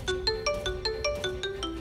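A phone ringtone plays alone, a bright repeating electronic melody of short pulsed tones in a steady rhythm, close and clear.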